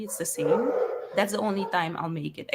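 Excited dogs barking in the back of a room while a person talks over them: a few yips and barks in the background, mixed with steady speech.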